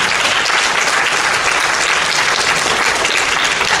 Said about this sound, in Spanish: Hay un aplauso a Jesús